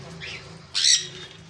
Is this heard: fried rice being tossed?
no